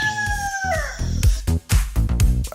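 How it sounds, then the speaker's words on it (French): A rooster crows once, its call sliding downward, followed by a series of rhythmic thumping beats, like music layered over the crowing. "4h30 au chant du coq."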